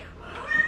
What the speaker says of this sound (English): What is the issue, Money Cat?